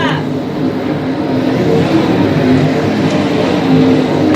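Dirt late model race cars roar past on a dirt track at night during Buckeye Late Model Dirt Week, a continuous loud engine drone swelling and fading under a commentator's talk.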